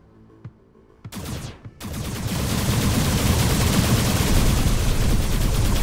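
Video-game gunfire in Arc Savior: after a couple of quiet clicks, a sharp shot and a brief sweep, sustained rapid automatic fire erupts and continues loudly and densely to the end.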